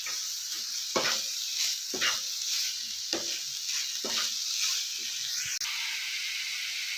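Grated fresh coconut and sugar are stirred in a pan for coconut barfi, giving repeated scraping strokes about once a second over a steady soft sizzle, close and moderately loud, with no talking.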